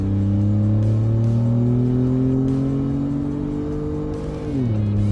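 A tuned car pulls hard in second gear from about 20 mph up to redline, its engine drone rising steadily in pitch for several seconds, loud and close from inside the cabin, before dropping sharply at the shift.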